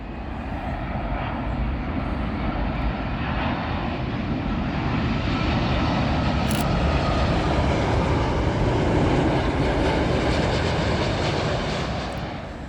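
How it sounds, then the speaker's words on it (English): A Royal Jordanian Boeing 787 Dreamliner from Amman lands on runway 27L at Heathrow, its deep, loud jet roar close and steady, swelling slightly as it passes, with wind noise throughout. "Royal Jordanian 787 Dreamliner. And this one is from Amman."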